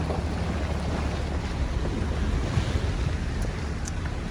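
Small creek flowing in the Black Hills near Safford, Arizona: a steady, broad rushing wash of water that stays even and continuous throughout, with no voices.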